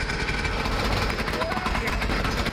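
Planishing hammer pounding a metal grill side panel in a fabrication shop, a dense steady mechanical rattle of rapid blows running without a break, with a voice speaking faintly underneath.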